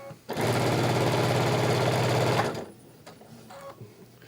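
A sewing machine stitches sashing onto a quilt, a loud, steady mechanical whir with a rapid needle rhythm that runs for about two seconds, then stops, leaving faint handling clicks behind.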